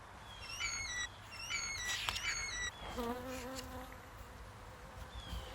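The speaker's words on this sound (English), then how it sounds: ""Buzz," said the mother. "We buzz," said the five." Bees buzz in a meadow beehive as a sound effect in a children's read-aloud story, with several close, wavering buzzy tones that rise and fall, then a fainter buzz in a separate burst.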